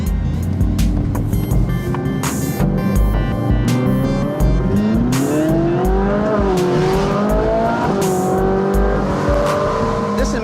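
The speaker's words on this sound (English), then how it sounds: "This is my commuter car, so I drive it every day to work." A commuter car drives past at close range, its engine loud as it revs and accelerates through rising and falling pitch sweeps with a steady road rumble beneath.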